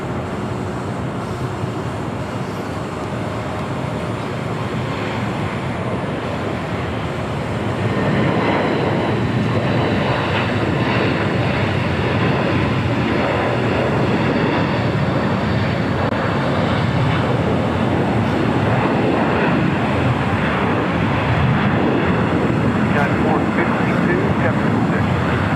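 A passenger-converted Boeing 747-400 cargo plane takes off at LAX, its engine rumble building from a moderate roar to a louder sustained thunder partway through, with talking heard over it.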